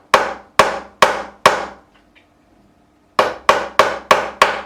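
A hammer taps a caul into place on a Harley Benton Custom Line DC guitar: four sharp, evenly spaced knocks, a pause of about a second and a half, then five more steady knocks, close and crisp.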